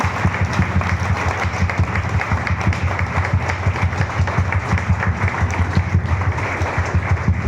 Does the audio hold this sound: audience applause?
yes